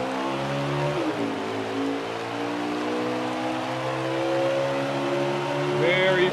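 Several race car engines drone and rise in pitch together as a race begins in a video game, a steady, layered motor whine that builds gradually and revs higher near the end.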